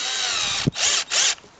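A Ryobi cordless drill runs at a high whine, then bogs down under load with a brief low thud, surging back in two short bursts before fading; close and fairly loud.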